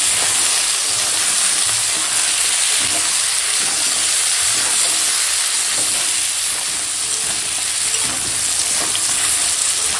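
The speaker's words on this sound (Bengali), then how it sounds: "আলু দিয়ে দিলাম, দিয়ে এখন একসঙ্গে ভাজবো" Malabar spinach stalks, potato and onion fry together in hot oil in a pan, giving a steady, loud, dense sizzle that runs unbroken throughout with no voices.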